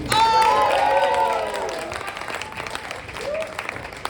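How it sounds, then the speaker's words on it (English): Warm audience applause after a poetry reading at a live poetry event, loud at first then tapering off, with a voice speaking over the clapping. "One more round of applause for Juan Morales."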